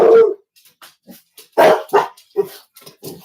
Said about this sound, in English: So they're going to bark for a minute